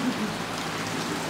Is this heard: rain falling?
yes